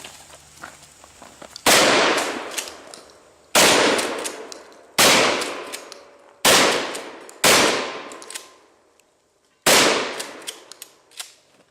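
A short-barrel Mossberg 500 pump shotgun fires six loud, close blasts, each sharp report ringing out and decaying over a second or two, spaced irregularly about one to two seconds apart with quiet gaps between.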